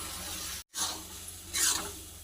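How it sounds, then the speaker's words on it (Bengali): Dal poured into sizzling spice masala in a pan, a hiss of frying that cuts out briefly and then surges louder as the liquid hits the hot oil, close up. "ডালটা ঢেলে দেবো।"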